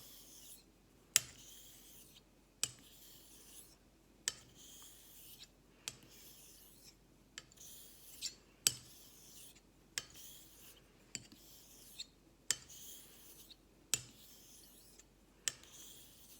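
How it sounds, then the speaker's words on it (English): Straight razor stroking across a Japanese natural nagura slurry on a Dan's Surgical Black Arkansas stone, a soft rasping scrape repeated every second or so, each pass ending in a small sharp click, close and quiet, with no voices. "I'm still honing with the weight of the blade."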